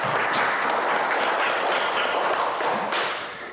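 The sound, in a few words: classroom applause for group presentation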